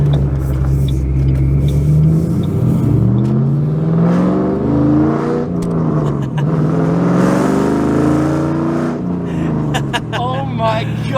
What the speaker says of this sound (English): we're going on our first drive in the straight pipe Mustang